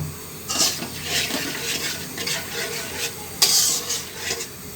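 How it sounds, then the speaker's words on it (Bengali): A spoon scrapes and stirs koi fish curry with milk in a pan, giving repeated close, rhythmic metallic rubs and scrapes over a faint sizzle, with one sharper clink near the end and no voices. "এখন আমি একটু নেড়ে চেড়ে নিব।"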